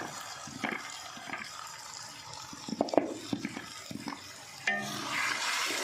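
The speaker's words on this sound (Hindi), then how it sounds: "मसाला फ्राई हो चुका है, अब कलेजी डाल देंगे इसमें।" Beef liver (kaleji) going into frying masala, a close, uneven sizzle with clattering stirs and scrapes, then a sudden louder rush of hissing as the pieces hit the hot spice mix.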